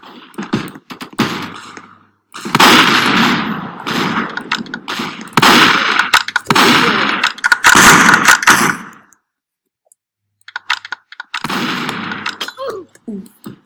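Video game gunfire crackles in loud, close bursts of rapid automatic shots, broken by a sudden silent gap before more firing resumes near the end.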